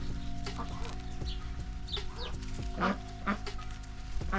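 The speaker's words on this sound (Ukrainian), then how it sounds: "Гарні качачки, супер взагалі." Ducks on a farm give repeated short, nasal calls at close range, scattered irregularly over a steady low droning hum.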